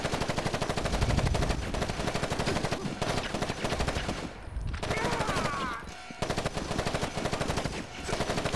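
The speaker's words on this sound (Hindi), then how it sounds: "ये गन गोलियाँ बहुत खा रही है लेकिन डैमेज इतना दे नहीं रही" Rapid bursts of automatic gunfire from the Gangstar Vegas video game, with loud sustained volleys, a brief lull partway through, then more firing, all up close with no talk.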